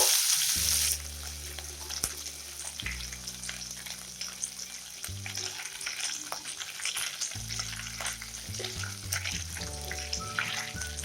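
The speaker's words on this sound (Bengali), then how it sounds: "এবার আমি এর মধ্যে নারকেল কুচিগুলো দিয়ে দেব।" Chopped coconut fries in hot mustard oil for Bengali-style ghugni, giving a steady sizzle with scattered crackles that runs on throughout, over a low tonal hum in the background.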